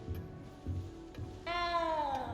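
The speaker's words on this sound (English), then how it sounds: "You don't need to be frightened, little cat." A frightened little cat meows in the video game Hogwarts Legacy, one drawn-out plaintive meow rising clearly over a low, steady ambient game hum with faint thuds.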